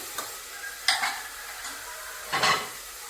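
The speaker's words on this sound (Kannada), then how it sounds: "ಆನಿಯನ್ ಮತ್ತು ಚಿಲ್ಲಿ ಜೊತೆ ರೋಸ್ಟ್ ಮಾಡ್ಕೊಳ್ತಾ ಇದ್ದೀನಿ" Onion and chilli roast with ginger garlic paste in a hot pan, a soft steady sizzle broken by a few close scraping stirs of a spatula against the pan, with no talking.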